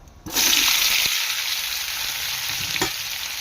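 Boiled potatoes drop into hot oil with dried chillies, cumin and bay leaf in a wok, setting off an abrupt loud sizzle that settles into a steady close frying hiss with a couple of stirring knocks.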